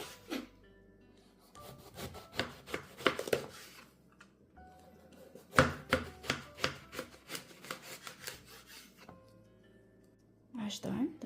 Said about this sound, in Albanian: do të vazhdojmë që t'i prejmë në fileta më të holla